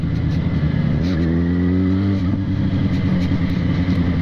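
A Yamaha XJ6 motorcycle on Michelin Pilot Street tyres rides over a wavy road, its engine droning steadily and loudly from close by, with the pitch rising briefly as it revs before settling back.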